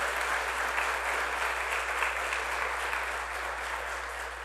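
Steady, dense applause from a sizable church congregation fills the whole stretch, holding an even level before easing slightly at the end.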